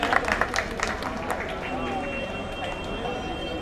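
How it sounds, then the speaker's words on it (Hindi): A crowd in Shyam Nagar, Karnal claps to welcome a BSP-INLD candidate: scattered claps burst early and then settle into a softer, steady patter amid crowd murmur and speech. "उनका यहाँ पहुंचने पर दिल की गहराइयों से तालियां बजाते हुए हम स्वागत करते हैं"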